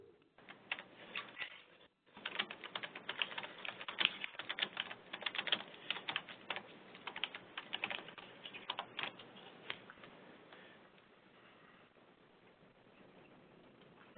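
Rapid clicking of keys on a computer keyboard, bursts of typing with a brief pause, then tapering to sparse, quieter taps.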